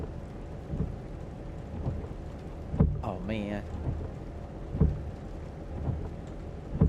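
Steady rain pours in a driving simulator game while a 2005 Volvo S60R sits on a Japanese road, with low thunder rumbling repeatedly beneath; someone briefly speaks over the storm.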